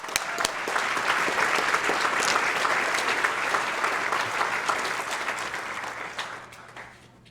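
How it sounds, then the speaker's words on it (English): A dinner audience at a chamber of commerce annual event breaks into sustained applause, a dense wash of clapping that holds steady for several seconds and then thins and fades. "Give them another round of applause."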